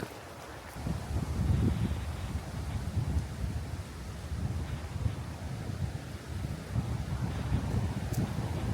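Strong gale roaring outdoors, buffeting the microphone with a continuous low rumble that swells and eases over the whole stretch, loud and unbroken with no voices.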